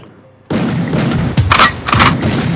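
Shotgun blasts boom in a video game, with loud, close repeated reports: an opening burst and two heavier shots in quick succession.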